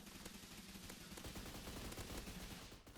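Dense, rapid bursts of gunfire in the Roblox game Energy Assault crackle continuously at close range, loud and sustained with no pauses.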